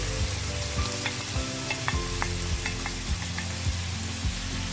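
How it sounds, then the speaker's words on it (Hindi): Fried red onion going into a pan of chicken curry being cooked for khaosay, a steady close sizzle with repeated scraping stirs and soft clinks, no talking. "अब हम इसमें डालते हैं फ्राई किया हुआ लाल प्याज"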